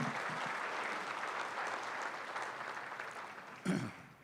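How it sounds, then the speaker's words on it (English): An audience applauds at a university centennial closing ceremony, a sustained wash of clapping at moderate distance that tapers off, with a brief throat clearing or knock near the end. "Let's give them a round of applause."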